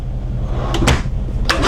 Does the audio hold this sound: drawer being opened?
yes